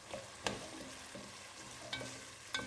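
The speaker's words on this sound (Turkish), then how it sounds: "Havucunu da atıyorum şimdi. Biraz bunlar sotelensin canlarım." Carrots and broccoli sizzle softly in a pan, with occasional scraping stirs and light clinks of a utensil against the pan.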